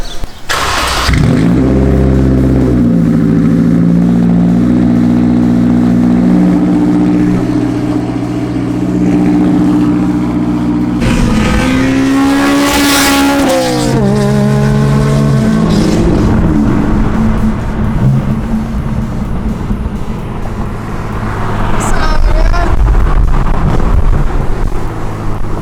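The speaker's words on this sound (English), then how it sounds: "Cold start." A car engine cold-starts with a loud crank and catch, settles into a high idle, then revs up sharply and falls back, close to the microphone with some wind buffeting and no talking.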